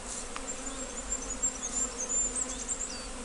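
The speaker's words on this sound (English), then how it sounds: "Yes, there's a lot of bees there." A swarm of honeybees crawling up into a new hive gives a steady, close buzzing hum that holds level throughout, with no voices.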